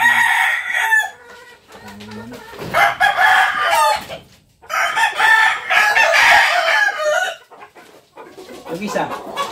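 Several labuyo roosters, red junglefowl, crow in repeated loud bursts close by, with clucking between the calls and people talking faintly in the background.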